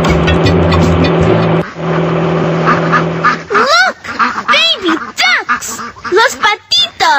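In a Dora video game, a car engine hums and then stops, giving way to a quick series of high, bouncy cartoon quacks from baby ducks blocking the road.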